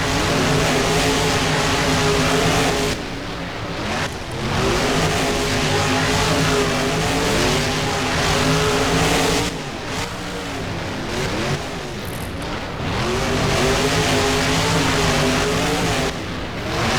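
Monster trucks including Blue Thunder race in BeamNG on the Lightningscape track, engines droning loudly and steadily with repeated rev swells and brief dips as gears shift, without talk.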